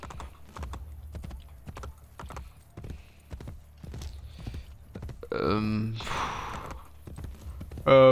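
Horse hooves clip-clop in a steady, even rhythm in Assassin's Creed Brotherhood, with a voice speaking over the hoofbeats partway through.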